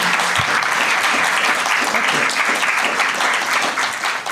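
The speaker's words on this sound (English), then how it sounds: "So let's have another round of applause for Chris Bain" Dense, steady applause from an audience honoring a speaker after a local history talk on the Port Washington Peninsula, loud and continuous throughout before easing slightly at the end.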